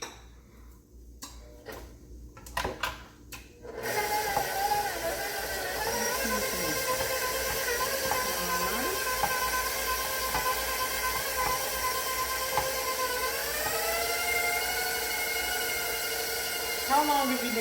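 An electric mixer runs steadily on oatmeal cake batter with eggs just added, a constant whirring hum after a few opening knocks, with people talking over it.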